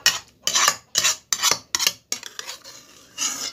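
A utensil stirs an ice candy mixture in a container, making rhythmic scraping swishes at close range, about six quick strokes followed by lighter clinking and one more scrape.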